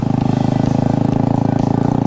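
Motorcycle engine running steadily up close, a continuous pulsing drone with a fast regular beat and no pause, loud throughout.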